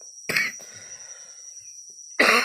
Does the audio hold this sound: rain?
no